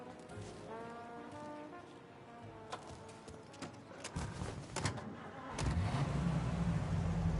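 Car engine in Mafia: Definitive Edition, a steady engine drone with tonal horn-like hums early on, then knocks and a louder rumble as the car pulls away and drives.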